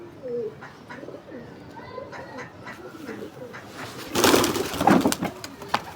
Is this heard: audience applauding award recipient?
no